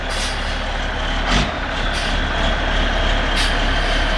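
A large Terra Gator truck reverses into a shop, its loud engine drone continuous and close, punctuated by a few short hissing bursts from the air brakes.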